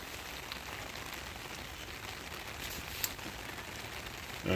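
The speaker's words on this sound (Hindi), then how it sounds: "खूबसूरत बारिश इसलू की, इस्लामाबाद की।" Heavy rain falling in Islamabad makes a dense, even hiss that holds steady and fairly faint, with no voices over it.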